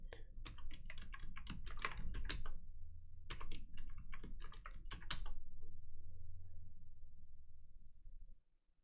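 Keys on a computer keyboard clatter as a root password is typed while setting up a server database, in quick irregular bursts of close clicks with short pauses, ending in quiet.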